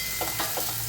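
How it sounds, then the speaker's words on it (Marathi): A ground masala paste sizzles in a pan as it is sautéed, with a steady frying hiss and a few soft scraping stir strokes, heard close. "तर हे वाटण पण आपण परतून घेऊया"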